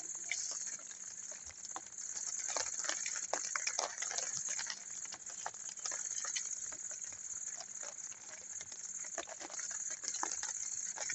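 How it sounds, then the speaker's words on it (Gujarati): Heavy rain drums on a camping tent during a solo survival camping trip, a dense, steady patter with sharper drops striking the fabric throughout, loud and close with no talk. "હા મિત્રો વરસાદ પણ બહુ પડવા માંડ્યો છે."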